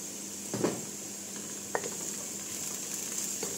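Garlic and turmeric powder sizzling in a hot frying pan, a steady hiss with a couple of brief clinks and stirring scrapes near the start.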